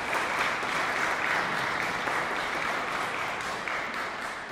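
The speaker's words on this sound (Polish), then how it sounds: "Duże brawa." Audience applause at a chamber concert during an award announcement, a full steady wash of clapping from a seated crowd, sustained and even throughout with no talk over it.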